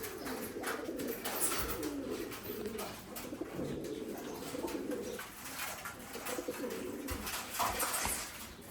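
Rajshahi Giribaj pigeons coo repeatedly up close, a continuous low rolling burble with overlapping calls and occasional wing flutters or rustles.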